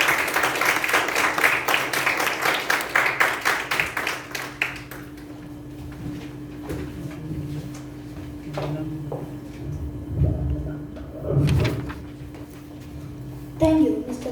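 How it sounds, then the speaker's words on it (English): A round of applause for a youth leader at a youth parliament session, a brisk burst of clapping that fades after about five seconds into room noise, shuffling and scattered thuds. "So please help me welcome youth leader Ryan Jaffer with a big round of applause."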